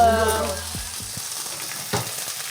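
Meat sizzles in a pan while cooking Thai food, with a loud hiss and a fading tone at first, then a few scrapes and soft clacks as it settles into a quieter fry.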